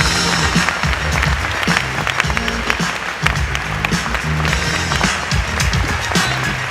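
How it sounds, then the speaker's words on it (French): An audience at a Banque Populaire award ceremony gives steady, vigorous applause for a group of volunteer cooks, close and loud, with low music-like tones running beneath the clapping. "Merci de les applaudir, les cuisiniers solidaires."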